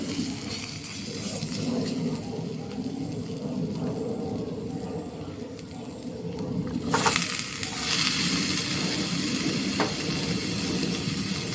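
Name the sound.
cut pumpkin frying in spice paste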